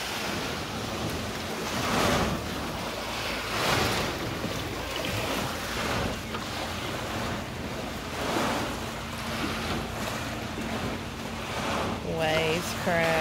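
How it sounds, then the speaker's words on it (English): Ocean waves wash and crash in repeated surges against broadband wind and water noise near a boat, with a faint tonal hum running through the latter half. "Waves crashing."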